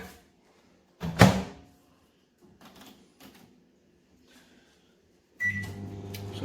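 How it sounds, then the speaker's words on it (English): A microwave door thunks and buttons are pressed, followed by quiet clicks, then the oven starts up with a steady low hum. "You put the pop-ups in the microwave for 30 seconds."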